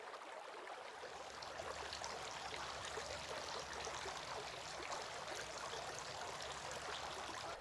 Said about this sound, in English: poured water on his hands and washed them 3 times